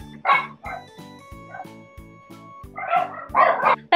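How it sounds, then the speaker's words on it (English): Several dogs barking loudly and close by in a home, sharp repeated barks in bursts with brief yips, over a steady tonal hum in the background. "Let's just ignore the dogs because they won't stop barking anyway"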